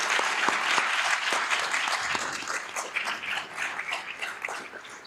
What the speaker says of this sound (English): So I just want to give a nice round of applause for Michele.